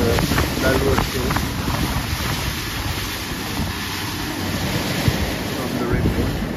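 Waves washing ashore at Lulworth Cove in Dorset on a bright sunny day, a steady loud surf roar with heavy wind buffeting the microphone throughout, no talk.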